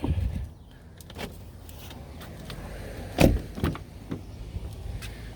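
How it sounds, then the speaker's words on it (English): Inside a Lexus IS250/350, the door locks release with a sharp mechanical clunk, preceded by a brief motor whir and followed by a few softer clicks in a quiet cabin. "I gotta unlock all the doors."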